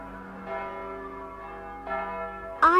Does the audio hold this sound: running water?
no